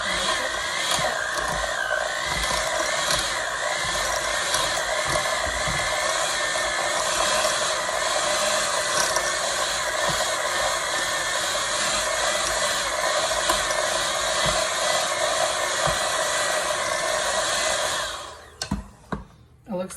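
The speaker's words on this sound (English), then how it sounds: "Once you whisk this together very well, you're going to see how the dough comes together." Eggs are whisked into tulumba dough with a steady, loud whirring drone that runs unbroken for about eighteen seconds, then cuts off into a few clatters and knocks.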